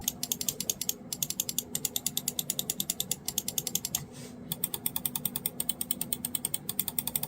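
A rapid, steady run of crisp button clicks from a Logitech G Pro X Superlight 2 gaming mouse, close and dry, with a couple of brief pauses in between. No voices.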